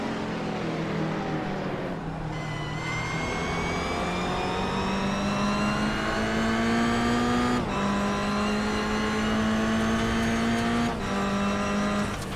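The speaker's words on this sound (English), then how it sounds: "GT3s around the outside, coming into the braking zone, and they make their way through cleanly" GT3 race cars lapping Daytona International Speedway in a sim racing game, a loud, sustained engine drone climbing steadily in pitch through upshifts, with brief drops at gear changes around the braking zone and no voices.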